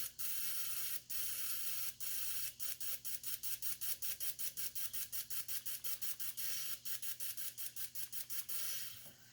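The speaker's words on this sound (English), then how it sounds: "Turn the power on, I could hear it squirt." A FiTech fuel injector fires off the engine and sprays into a can, making a close hiss broken by a rapid string of sharp clicks, irregular at first and then a fast steady run before fading.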